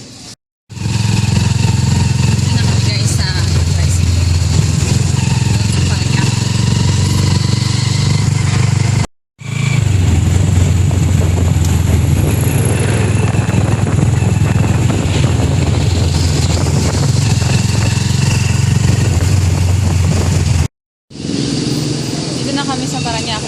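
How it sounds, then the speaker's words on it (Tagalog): A motorized tricycle's engine drones steadily and loudly throughout a ride, with wind rumble and brief cuts where the sound drops out. "Sakay na kami tricycle."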